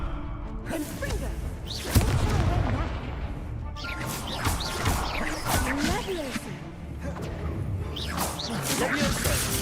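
Spell combat in the video game Hogwarts Legacy, with a Confringo fire spell blast among whooshes, thuds and crashing impacts in a busy, loud stretch, while a player's voice speaks over the action.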